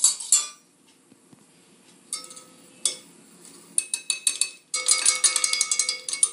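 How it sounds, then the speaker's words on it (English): Icing sugar is sifted into soft butter for cookie dough, with bursts of bright metallic rattling and tapping from a sieve, separated by short quiet gaps and picking up into a rapid run near the end. "I've got half a cup of soft butter here. And into that, I'm going to sift half a cup of icing sugar."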